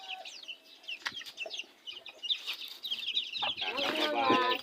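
A flock of farmyard chickens clucks busily close by while eating worms in a rural yard, with overlapping chatter and rising excited calls toward the end.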